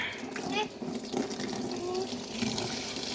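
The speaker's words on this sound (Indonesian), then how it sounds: "Kita buang dulu airnya." Water is poured out of a plastic bag holding tilapia fry beside a tarpaulin fish pond, a steady trickling gush heard close by under faint background noise.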